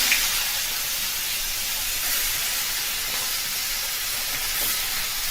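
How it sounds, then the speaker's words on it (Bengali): Ash gourd pieces dropped into hot tempering oil for a vegetarian curry, a loud continuous hissing sizzle that stays steady and close from start to end, with no talking. "এবার আমি চাল কুমড়োটা ছেড়ে দিচ্ছি"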